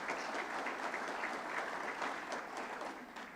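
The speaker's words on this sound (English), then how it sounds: "I would like to ask a hand of applause" Sustained audience applause at the Green Aruba 2015 opening speech, a dense, steady wash of clapping hands from a crowd that holds evenly for several seconds before easing slightly at the end.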